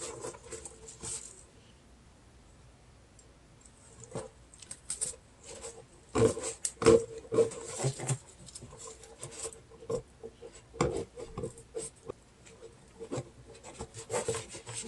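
Blades cut through a hard, woody Phalaenopsis orchid stem, producing close, dry scraping and crunching rasps that come in irregular bursts, louder in the middle, over a quiet background.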